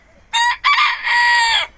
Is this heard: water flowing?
no